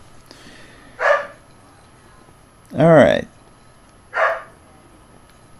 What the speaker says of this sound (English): If you can hear the dog barking in the background,